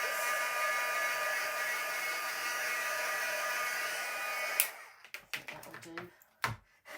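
A heat tool blows steadily to dry a handmade buttercup field card, a continuous loud hiss for several seconds that cuts off abruptly, followed by scattered clicks and handling noises.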